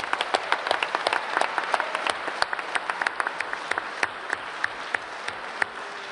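A crowd at the Labour Party conference in Liverpool applauds with steady, dense clapping and sharp individual claps standing out, filling the hall for several seconds with no speech over it.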